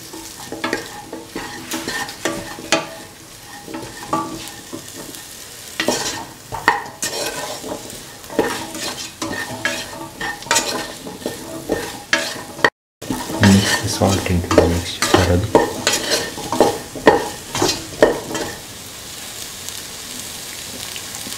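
An egg, potato and carrot coconut milk stew is stirred in the pot after salt goes in, loud repeated scraping strokes over a bubbling sizzle, with a brief dropout midway and no talking.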